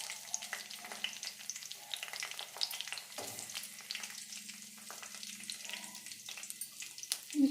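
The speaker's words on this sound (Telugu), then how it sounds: "ఇప్పుడు మనం ఆయిల్ వేసుకుని ముందుగా మిర్చి వేసుకుని వేయించుకుని పక్కకు తీసుకోవాలి." Green chillies fry in hot oil for a coriander chutney, a steady close crackling sizzle with scattered sharp pops and occasional stirring scrapes, a low hum running underneath throughout, and no voices.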